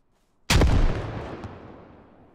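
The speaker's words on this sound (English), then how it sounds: "grenades from Russia." A single loud grenade blast in a Squad-style military shooter, with a sharp, heavy burst followed by a long rumbling decay that fades over about two seconds.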